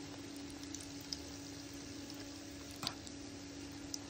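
Cauliflower fritters frying in hot oil, a steady faint sizzle with a low hum beneath and a few small pops and crackles standing out along the way.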